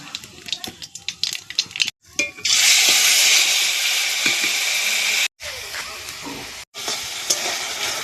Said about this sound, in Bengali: আর এদিকে কড়াইতে তেল গরম হয়ে গেছে, দিয়ে দেবো এখানে আমি একটু কালো জিরে ফোড়ন।